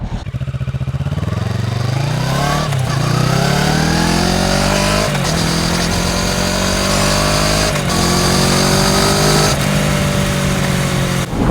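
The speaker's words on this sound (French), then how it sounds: "Je pense qu'on pourra bien entendre le pot d'échappement." A Kawasaki Ninja 650 fitted with an Akrapovič exhaust accelerates on a country road, its engine climbing through gears in rising revs with short dips at each shift, loud and close throughout.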